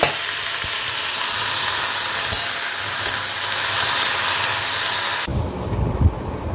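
Food fries in a pan with a loud, even sizzling hiss and a couple of faint clicks, until the frying cuts off abruptly near the end and a low rumble remains.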